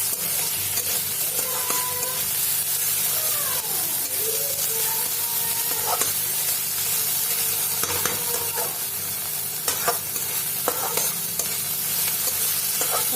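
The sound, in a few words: ginger and garlic frying in a pan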